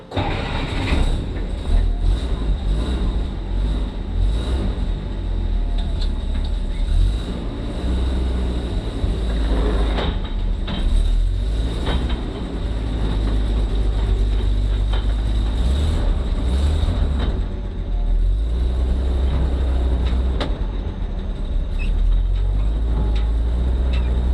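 A Jeep M715 military truck engine runs steadily at close range, a loud, continuous low rumble with mechanical clatter and a few brief knocks, no talking over it.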